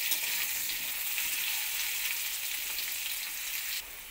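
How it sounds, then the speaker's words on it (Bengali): Pumpkin and potato pieces frying together in hot oil give a steady, bright sizzle that holds even throughout, with no talking. "কুমড়োটাকে আলুর সঙ্গে একসঙ্গে ভেজে নেব।"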